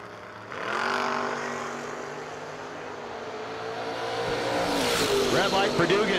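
Drag race cars, an Oldsmobile and a Nova, rev and launch at a No-Box 660 shootout, engines roaring louder as they pull away, with an announcer talking over the noise.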